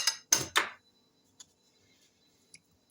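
A fork whisks eggs, sugar and a pinch of salt in a bowl, three quick scraping strokes up front followed by a few faint, isolated clinks against the bowl.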